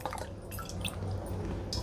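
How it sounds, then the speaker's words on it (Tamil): Water is added by measuring cup into a Mealthy Multipot 9-in-1 electric pressure cooker, giving a close, continuous splashing and dripping trickle with brief spattery bursts. "ஃபஸ்ட்டு இந்த மெஷரிங் கப்பால் 3 கப் அளவுக்கு இதில் தண்ணி ஆட் பண்ணிக்கலாம்."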